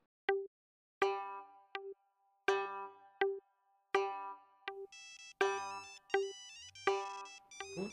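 A phone ringtone plays a bright electronic melody of chiming notes that repeats in a loop, loud and clear with nothing else over it.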